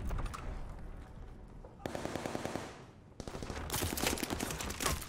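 Bursts of MP40 submachine gun fire with incendiary rounds in the Call of Duty Vanguard video game, rapid repeated shots in two loud volleys separated by a brief lull, dense and close.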